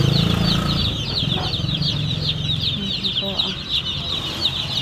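Many 45-day-old chickens cluck and chatter together in a dense, busy flock, with occasional wing flaps and a faint voice underneath.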